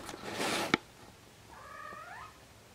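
A cat meows once with a rising, falling wail after a burst of broadband noise and a sharp knock, otherwise quiet.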